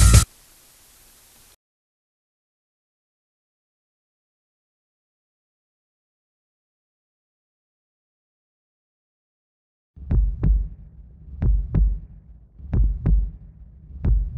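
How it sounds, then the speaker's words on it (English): A heartbeat sound effect from the video game The Way of the Dogg, starting after a brief burst of hiss and a long silence, then a loud, steady pulse of deep paired thumps repeating close up. "Everyone has a heartbeat."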